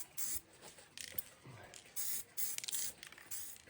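Aerosol spray paint hisses in short, close bursts of about half a second each while coating car wiper arms during a Honda CRX restoration, with light rattles between passes.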